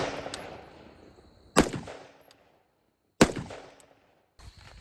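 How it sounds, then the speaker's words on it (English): Rifle firing AAC 5.56 ammunition: two loud, sharp outdoor shots about a second and a half apart, each with a rolling echo tail, and a third shot starting right at the end. "Let's fire 3 shots"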